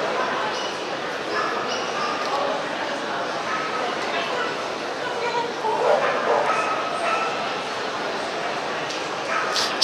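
Dogs bark, yip and whimper among a crowd at the 2019 World Dog Show in Shanghai, scattered calls rising over a dense, constant hall murmur of voices and background noise.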